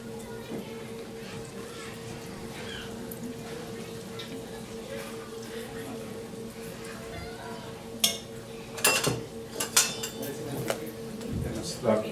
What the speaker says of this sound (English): Use a slotted spoon to turn them over.